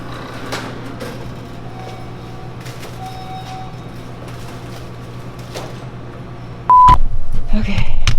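A phone call to vending machine tech support begins with a few short dialing tones and beeps over a steady low room hum, followed by a louder, denser burst of noise near the end.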